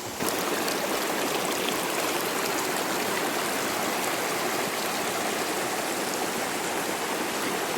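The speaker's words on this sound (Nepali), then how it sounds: "अलिकति सानो खोला पनि राखेको छ" A small village stream in Kulekhani rushes and splashes in a steady, full hiss that continues unbroken throughout.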